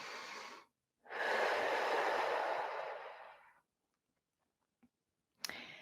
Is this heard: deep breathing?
yes